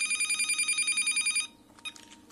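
A telephone rings close by with a rapid, buzzing electronic trill that repeats steadily, then cuts off abruptly, leaving faint room noise and small handling sounds.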